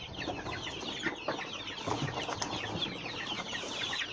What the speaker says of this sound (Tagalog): Dito sa maraming manok.